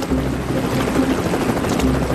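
Helicopter near the site of the Estonia ferry sinking at sea, a steady, loud rotor thump and engine drone filling the whole stretch, with no speech over it.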